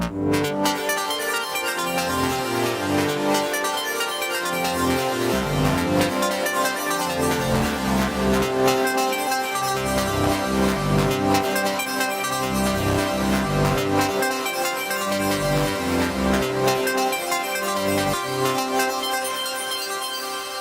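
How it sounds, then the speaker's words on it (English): Mazetools Soniface Gridsynth plays a running sequence of synth notes taken from the key module, a dense stream of pitched tones with rhythmic pulses in the low end, steady and fairly loud with no talking. "What you heard is the notes which the Gridsynth gets from the key interface."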